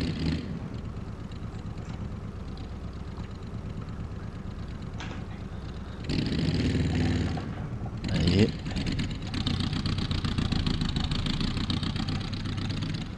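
A baja off-road vehicle's engine drones steadily in BeamNG.Drive, swelling louder for a couple of seconds mid-clip before settling back into a continuous hum, with a voice speaking now and then over it.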